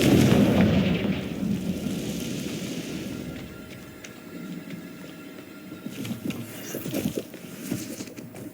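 A fiery explosive spell goes off in the Hogwarts Legacy video game, opening with a loud booming blast that rumbles and fades, followed by scattered crackling and thudding impacts; no talking.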